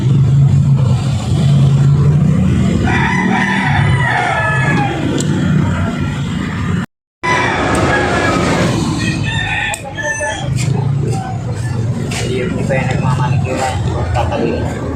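Roosters crow repeatedly, loud and close, amid clucking hens and a constant low rumble; a voice talks briefly among them.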